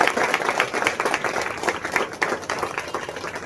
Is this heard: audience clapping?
yes